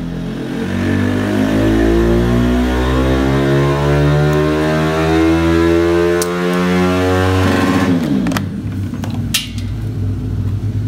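A 100cc Spirit 2Fast scooter engine, brought out after seven months of winter storage, runs loud and close with a steady droning note that rises and falls as it revs for about eight seconds, then cuts to rattling and clicks.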